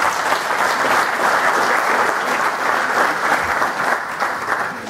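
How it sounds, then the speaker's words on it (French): Sustained, even applause fills a faculty hall as the audience thanks the teachers, a dense wash of many hands clapping at close range with no talk over it. "Je vous demande de les remercier, de les applaudir, s'il vous plaît."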